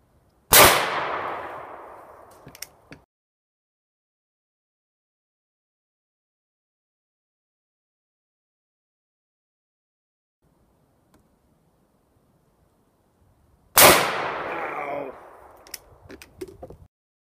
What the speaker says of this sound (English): We'll do three headshots and three center of mass shots.